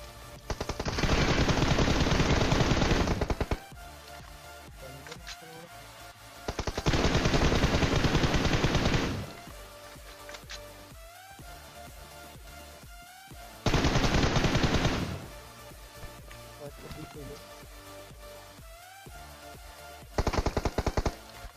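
Loud bursts of automatic gunfire during a PUBG fight on the Erangel map, four long sustained volleys separated by quieter gaps with scattered distant shots.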